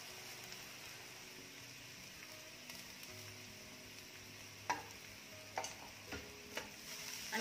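Grated coconut and onions roast over a medium-low flame in a pan for Malvani egg curry: a faint, steady low sizzle, with a few soft utensil taps and scrapes near the end.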